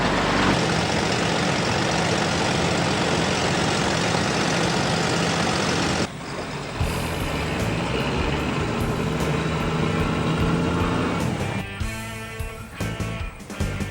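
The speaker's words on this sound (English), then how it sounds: "An Andrews 4x4 Maxter is typical of the type of vehicle that has been put into harness for this type of work." An Andrews 4x4 Maxter truck's diesel engine running steadily and loudly up close, a dense, constant rumble that shifts character partway through and continues to the end.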